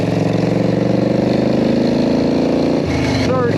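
Motorcycle with a foot clutch and jockey shift setup running in second gear, a loud, close, steady pulsing engine drone whose pitch rises gradually, then dips briefly near the end.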